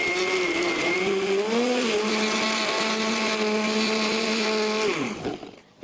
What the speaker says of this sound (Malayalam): നമ്മുടെ തണ്ണിമത്തനാണ് ഇട്ട് ജ്യൂസ് അടിച്ചെടുക്കാനായിട്ട് പോകുന്നത് കേട്ടോ